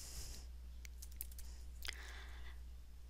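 Keys tapped on a computer keyboard while entering part of a course name in a college registration search box, several quick clicks in short bursts, faint and close, over a steady low hum with no talk.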